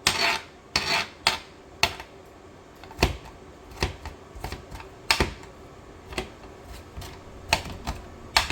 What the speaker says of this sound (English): what I want to do is I just want to dice it up in smaller pieces